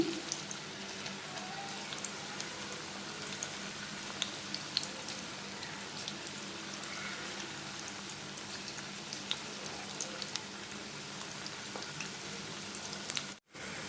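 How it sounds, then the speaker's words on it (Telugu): Ajwain leaf pakoras sizzle steadily in a small amount of hot oil, giving a continuous crackling fry with scattered pops that cuts out briefly near the end. "ఆయిల్ హీట్ అయిందండి ఇప్పుడు పకోడీ ఒకటి ఒకటిగా వేసేసుకుందాం"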